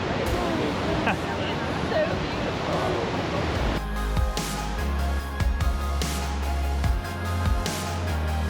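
Iguazu Falls roars as a steady, dense rush of falling water under a busy crowd of visitors, with tonal hum and scattered voices joining partway through.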